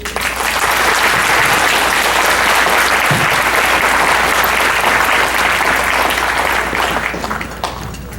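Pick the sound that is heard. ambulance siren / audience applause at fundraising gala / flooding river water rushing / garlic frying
audience applause at fundraising gala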